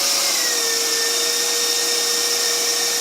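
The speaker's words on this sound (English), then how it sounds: "Now we can get the whisk all the way up." An electric mixer whisk whirring at full speed while whipping cream, a loud, steady motor whine that holds constant throughout with no talking.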